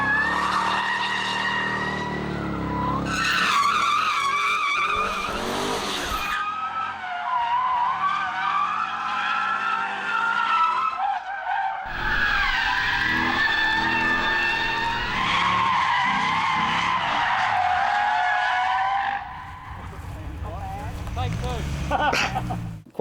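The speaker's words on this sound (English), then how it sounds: "they can't officially go out and burn rubber" A car burning rubber, its tyres screeching and squealing in long loud skids alongside revving engine noise, with short pauses between runs and some talk.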